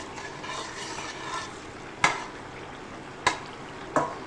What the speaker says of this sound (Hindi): टमाटर के साथ अब हम इसको बहुत अच्छे से जो है भुनेंगे तेज़ आंच के ऊपर।